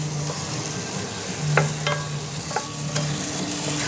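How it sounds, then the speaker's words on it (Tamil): Bone-in chicken pieces stirred and sautéed in a pan for chicken salna, a steady sizzle broken by several sharp spoon scrapes and clinks against the pot, close and fairly loud. "300 கிராம் சிக்கன் இதை சேர்த்துடலாம். சேர்த்துட்டு இதை நல்லா கலந்து விட்டுக்கலாம்"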